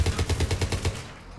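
Rapid automatic gunfire in a Mass Effect 3 firefight aboard a ship's CIC, a close, loud burst of evenly spaced shots that stops abruptly after about a second.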